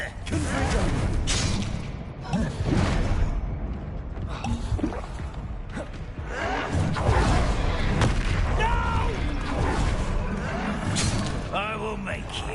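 A Confringo spell blast in Hogwarts Legacy, heard as loud rumbling booms and crackling impacts in a dense, continuous battle mix, with voices speaking over much of it.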